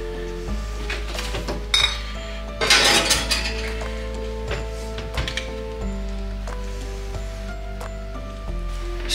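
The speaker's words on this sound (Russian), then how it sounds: "Стелим тряпки, достаем банки. Банки горячие, берем перчатку." Hot glass jars are taken out and handled, with a run of glassy clinks and knocks, some clustered and some spaced apart, over a steady low hum, close by and with no talking.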